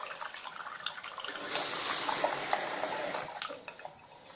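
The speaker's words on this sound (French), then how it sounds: "il faut mettre de l'eau jusqu'à que la création soit remplie" Water from a bathroom sink tap runs steadily into a container until it fills, a soft, continuous splashing stream that swells in the middle and tapers off toward the end, with no voices.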